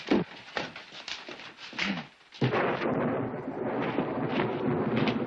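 Rolling thunder from a storm, a deep broadband rumble that swells after a brief lull and keeps booming loud and close, with faint wind noise and no speech.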